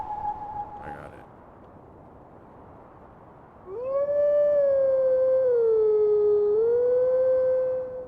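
In the video game Twilight Princess, a wolf lets out a loud, sustained howl that starts suddenly and holds a long, wavering tone. Before it comes a quieter higher note, then a brief blip.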